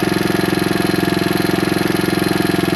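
A Suzuki DR200S single-cylinder engine with a Nibbi carburetor idling close up, a fast, even, pulsing chug with a slight rattle, steady throughout with no voices.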